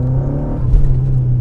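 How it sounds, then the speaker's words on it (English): A Fiat Coupe's Lampredi twin cam engine idles with a deep, steady rumble, briefly rising in a short rev before settling back. "what do you think sounds better? Twin cam, Lampredi engine."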